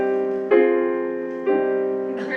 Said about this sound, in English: To make this minor, it sounds like this